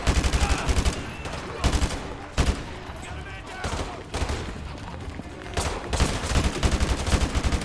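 Gunfire in Call of Duty Modern Warfare 2 comes in sharp automatic bursts and single loud shots, unevenly spaced with short pauses, close and punchy, with someone talking in between.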